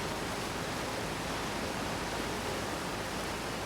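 Waterfall in the video game Outer Wilds, heard from behind the falling water: a dense, constant broadband roar that stays even and loud throughout, with no voices.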